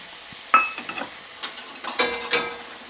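Mustard paste goes into boiling water for a Bengali bata fish curry, with a metal spoon clinking and scraping against the pot over a soft bubbling sizzle in short, uneven bursts.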